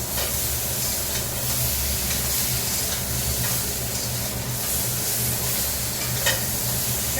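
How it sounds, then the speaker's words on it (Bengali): Crab fries in a pan, giving a loud, dense, unbroken sizzle and hiss close by, with faint stirring underneath and no talking. "এটা আর একটুখানি ভেজে নেই তারপরে জল দেবো"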